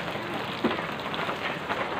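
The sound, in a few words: rain falling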